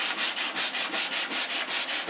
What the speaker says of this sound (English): Get a nice little piece of smaller sandpaper